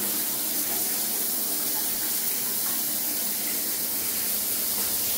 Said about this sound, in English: Let's check the shower. Let's check this water pressure.